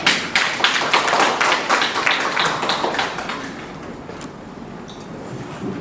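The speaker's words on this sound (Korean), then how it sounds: "뜨거운 박수로 맞이해 주시기 바랍니다" An audience at a Daejeon city safety cooperation meeting claps to welcome the head of the Citizen Safety Office, crisp close claps in a lively burst that gradually thins and fades toward the end.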